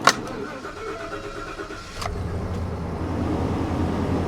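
A retired AT&T work truck with about 59,000 miles cranks over and catches, a sharp start followed by a steady, close idle that runs on alone.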